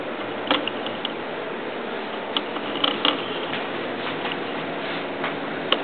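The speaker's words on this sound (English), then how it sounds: "Let's bring the camera back to the serge machine so you see what I'm doing." A serger sewing machine stitches mesh fabric for leggings, giving a steady, fairly loud mechanical whir with faint ticking clicks running throughout and no talking.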